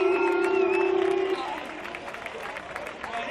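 Crowd at an outdoor concert at a beer pergola applauds and cheers, a dense wash of clapping that follows a held sung or spoken tone and carries on steadily throughout.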